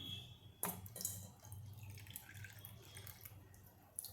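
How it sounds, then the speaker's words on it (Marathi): Water pours into a bowl in a few quick splashes and trickles, fairly close and soft, with no talking. "हे एक कप पाणी मी याच्यामध्ये घालून घेतलं"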